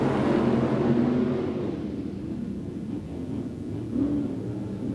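Stock car engines rumble and roar together on an off-road dirt speedway, a loud continuous low drone of the field rolling through the final turn toward the start.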